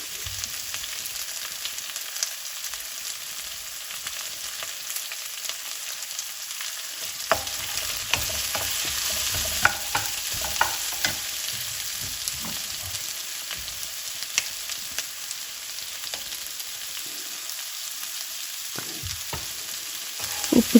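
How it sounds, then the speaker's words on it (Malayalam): Onion and green chili masala fry in a pan for a long stretch, a constant crackling sizzle with intermittent scraping stirs and spoon knocks close by, and no voices. "ഇനി നമുക്ക് വഴറ്റിക്കൊണ്ടേയിരിക്കാം ഒന്ന് ലൈറ്റ് ഗോൾഡൻ കളറായിട്ട് കിട്ടണം നമുക്ക്"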